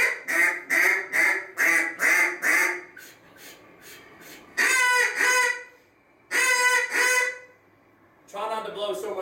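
A fine hand duck call is blown in short, raspy quacking bursts: a rapid run of evenly spaced quacks, then longer drawn-out calls separated by pauses, loud and close.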